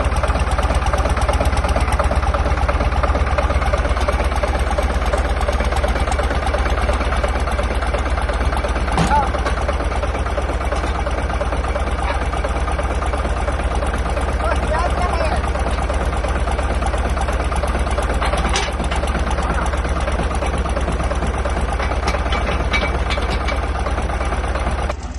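An engine driving a farm feed auger runs at a steady idle, a constant loud low drone and mechanical hum with a few faint clicks and knocks, unbroken throughout.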